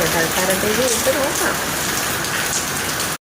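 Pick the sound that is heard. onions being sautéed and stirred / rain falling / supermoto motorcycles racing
rain falling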